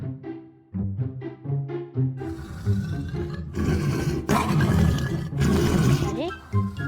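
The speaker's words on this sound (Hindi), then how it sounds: "ये तो शेर की दहाड़ने की आवाज है।" A lion roars in a cartoon comedy: loud, rumbling roars that build from short, rhythmic growling grunts into long, sustained bursts close at hand.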